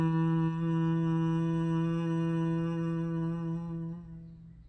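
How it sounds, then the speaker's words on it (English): A single long Om chant in Kundalini Yoga, one steady sung tone held for several seconds and then fading, close and alone. "See, that is an Om."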